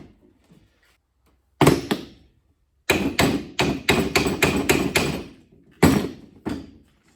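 Hammer knocking a bent mower blade straight: an isolated sharp metallic strike, then a quick run of about six ringing blows, followed by a final pair, loud and close with quiet gaps between.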